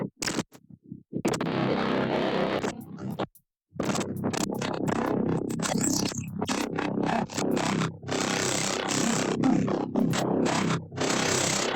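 The mid mono channel of a layered, resynthesized synth bass plays as a gritty, scratchy tone that stops and starts in choppy bursts with brief silent gaps, alone with no speech.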